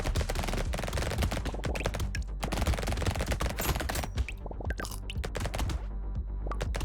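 SMG fire in Despot's Game, dense rapid-fire bursts of many quick shots stacked almost continuously, loud and up front with short pauses between volleys.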